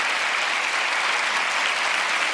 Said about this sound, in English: Please, round of applause for Koa Beck,